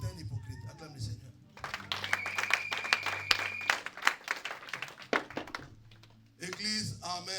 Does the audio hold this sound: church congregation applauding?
yes